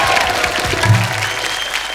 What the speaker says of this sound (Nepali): हाम्रो दिपा दिदीको लागि नि ताली बजाइदिउँ।